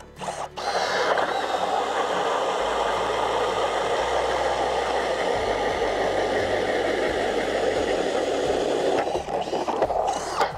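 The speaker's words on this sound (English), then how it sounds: "this thing's a machine for getting through a lot of ice in a hurry" A cordless electric ice auger drills through thick ice, its motor giving a steady, loud mechanical drone with grinding undertones that holds for nearly the whole stretch and briefly dips near the end.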